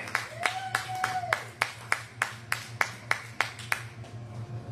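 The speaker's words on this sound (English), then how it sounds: "Clap for Shane, everybody." A comedy-show audience claps for a comedian in a short, sparse burst of loud, sharp claps in a steady rhythm, fairly close, over a low background hum, with a brief tonal whistle early on.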